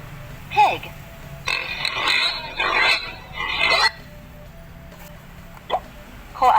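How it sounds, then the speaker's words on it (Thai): A pig oinking and grunting in a run of rough, close bursts, several in a row with short gaps, then a couple of fainter snorts. "หมู pig"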